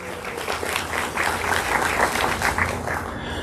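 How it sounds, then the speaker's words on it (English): An audience applauds a school board candidate's wife, a social worker, with steady dense clapping that fills the whole stretch at an even, moderately loud level. "Can you give her a round of applause?"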